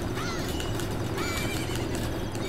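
A horse in The Legend of Zelda: Majora's Mask whinnies in repeated rising and falling cries over steady hoofbeats, loud and close throughout.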